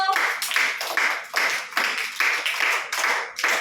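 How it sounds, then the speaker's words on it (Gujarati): Anganwadi children clap their hands together during a pass-the-ball game, a steady run of quick, sharp claps close by with brief pauses between bursts. "ચાલો બધા બાળકો તાળી પાડો"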